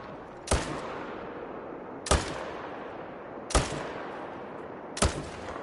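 Rifle shots crack in theHunter: Call of the Wild during a moose hunt, four sharp evenly spaced reports, each with a short echoing tail across open terrain.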